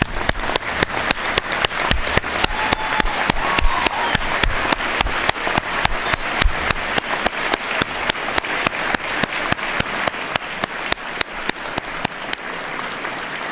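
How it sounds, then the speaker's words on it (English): Sustained applause from a large crowd at a university graduation ceremony, dense and steady for over ten seconds, with no speech over it. "let's all of us applaud what they've done for you during this journey."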